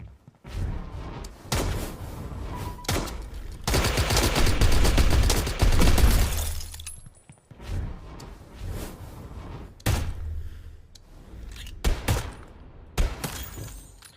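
Gunfire from the Star Atlas first-person shooter game comes in loud bursts of rapid shots and impacts, with a long sustained volley in the middle and quieter gaps between.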